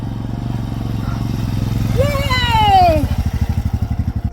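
A motorcycle carrying a passenger rides through Nubra Valley in Ladakh. Its engine throbs steadily and loudly up close, with a brief rising whine in the middle and choppy engine pulses at the end.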